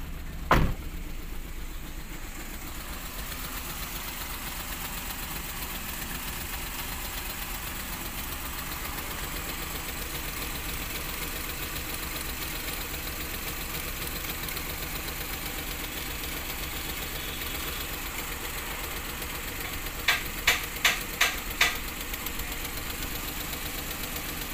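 A Maruti Alto 800 engine idles roughly with a persistent misfire, a steady unbroken drone running throughout, with a brief thump near the start and a quick cluster of four sharp knocks near the end.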